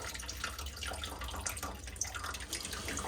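Water runs out of a Weil McLain Ultra boiler with an ignition failure, a quiet, steady trickling and splashing with no voices.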